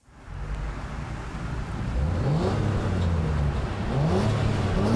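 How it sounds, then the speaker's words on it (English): A 2022 Acura MDX Type S with active quad exhaust cranks and fires up, then settles into a rising, revving idle that climbs in a couple of sweeping blips, close and fairly loud with no talking. "let's go ahead and fire it up so you can hear what the engine sounds like"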